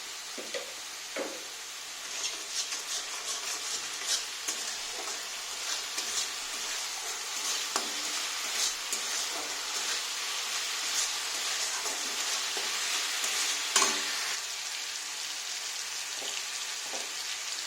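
Chilli cauliflower sizzling and being stir-fried in a pan, a steady close hiss of frying with scattered scraping and stirring clicks throughout.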